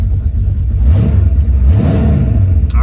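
A cold 1968 Mercury Cougar XR7 engine idles and revs just after start-up, a steady low rumble with a couple of rising swells, close and loud throughout.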